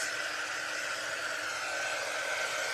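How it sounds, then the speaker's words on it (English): A hair dryer blows steadily and up close over craft projects, a continuous loud whooshing roar that holds unchanged throughout with no voices. "I'm going to take my dryer and get all of these little cobwebs off of my projects."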